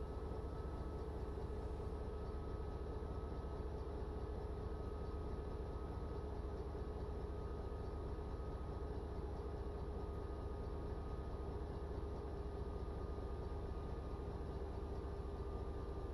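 A KCS freight train rolls along the Shreveport Subdivision in Train Sim Classic, giving a steady, continuous engine drone and rail rumble with a faint high whine, unchanging throughout and with no voices.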